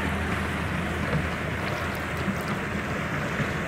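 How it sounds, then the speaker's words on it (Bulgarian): A water taxi motorboat passes a gondola on a Venice canal, its steady engine rumble blending with lapping water and broadband wash, continuous and fairly close throughout. "Ето едно такси, ни изпреварва."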